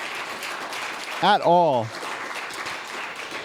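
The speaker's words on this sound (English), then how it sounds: "One more round of applause." Conference audience gives another round of applause, a steady patter of clapping running throughout, with a speaker's voice rising briefly over it partway through.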